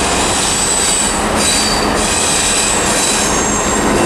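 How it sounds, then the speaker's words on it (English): A Class 66 freight train passes at Carlisle station on the West Coast Main Line. It is loud and close, with a broad rolling roar and squealing wheels running the whole time, and no voices are heard. "got some freight coming through now"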